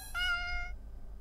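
A cartoon cat in a video game gives one short, bright meow after being shot with a water gun, clear and close, then fades into quiet.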